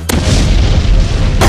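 Cannon fire in the video game Build a Boat for Treasure lands as a sharp, loud boom with a sustained roaring rumble that ends in a second blast.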